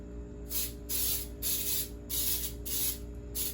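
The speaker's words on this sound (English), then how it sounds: "I'm going to spray my pan." Cooking spray hisses from an aerosol can onto a Bundt pan for pound cake, in about five short bursts with brief pauses between, close and fairly quiet.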